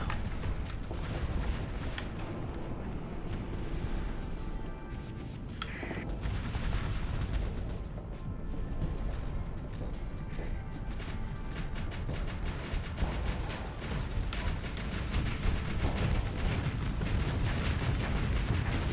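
Spaceships trade bombardment fire in the Starsector space game, producing a continuous rumble of booming explosions and sharp impact bursts, loud and layered with no pause.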